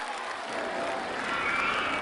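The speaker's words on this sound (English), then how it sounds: "these guys are clapping on the penis exploding machine" Park guests in a RollerCoaster Tycoon game break into sustained applause, a steady wash of many clapping hands at moderate level that swells slightly toward the end, with no talking over it.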